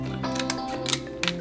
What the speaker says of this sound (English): run your scissor on the other side, so you can easily just disarm the shells